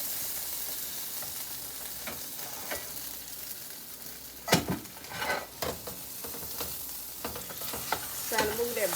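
Angus beef roast searing in butter in a pan, a steady loud sizzle throughout, with a few scraping and stirring knocks as the butter is moved around the meat.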